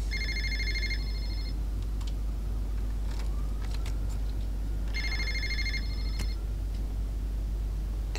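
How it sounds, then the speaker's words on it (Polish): A phone rings twice for Lucas in the video game Fahrenheit, two bursts of an electronic ring separated by a pause, over a low background hum with a few faint clicks. "Ktoś telefon dzwoni Lukasowi."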